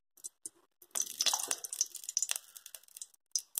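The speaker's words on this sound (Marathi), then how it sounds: "मी तेल टाकते।" Oil hits a heated kadhai for chicken fry, scattered drips giving way to a brief burst of wet sizzling and crackling, then thinning back to isolated spatters, close and fairly quiet.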